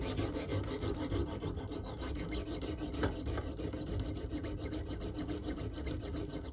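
Repeated rasping strokes of a Bubba Blades fillet knife drawn across a stone on a KME sharpener, a steady, even scraping rhythm close up with no talk.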